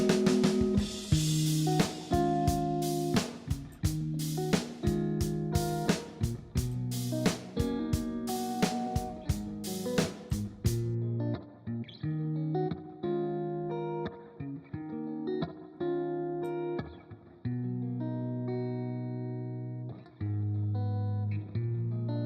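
Guitar run through the PSP Audioware Nexcellence spring reverb plugin, a spring reverb emulation: a steady stream of loud plucked notes and chords with sharp attacks, trailed by a lingering, subtle reverberant wash, fairly close and without voices.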